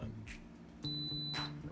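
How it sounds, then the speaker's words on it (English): An Instant Pot electric pressure cooker signalling that pressure cooking is done, a clean steady electronic beep tone sounding once close by in a quiet kitchen. "Any second now, this is going to click over to done. It's going to beep."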